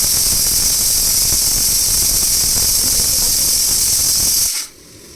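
Steady, loud hiss of steam escaping from a 12 litre pressure cooker while pulao cooks, continuous without pauses until it cuts off abruptly near the end.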